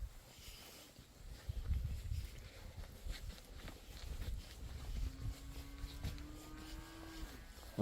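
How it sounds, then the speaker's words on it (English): Cows gather at a salt lick on a farm, one giving a long drawn-out moo near the end over faint outdoor rustling and shuffling, fairly quiet overall. "Cows are back at the salt lick."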